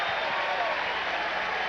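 A baseball crowd at a Padres vs Phillies game roars and applauds in a steady, broad wash of cheering, heard at a moderate distance.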